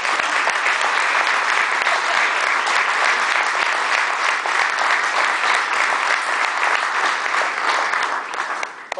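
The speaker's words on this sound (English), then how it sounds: "get a little round of applause from most parents" A dense round of applause at a banquet, loud and sustained for several seconds from many hands, tapering slightly at the very end.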